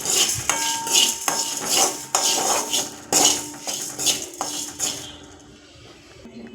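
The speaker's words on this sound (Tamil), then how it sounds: "இப்போ நம்ம இந்த வரமிளகாய், மல்லி, வெந்தயம், சீரகம் இதெல்லாம் எடுத்து வச்சுருக்கோம் இல்லைங்களா, அதெல்லாம் போட்டு வறுத்துக்கணும் நல்லா" Dry red chillies, coriander seeds, fenugreek and cumin are tossed in a pan, making repeated close clinks and rattling scrapes of a utensil against metal in uneven bursts before going quiet at the end.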